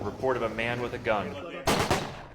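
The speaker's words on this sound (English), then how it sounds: "Shots fired." A police training scenario responding to a report of a man with a gun: a voice speaks, then a single sharp, loud gunshot burst rings out near the end.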